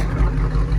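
A 1979 Ford Super Cab 4x4 truck engine idles on choke, a close, loud, steady low rumble with an even throb and no voices.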